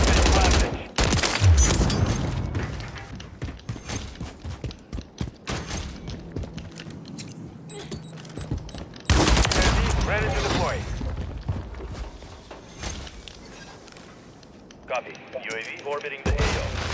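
Video game gunfire crackles in loud bursts and sustained automatic volleys, with sharp individual shots between, while a voice talks over the action in places.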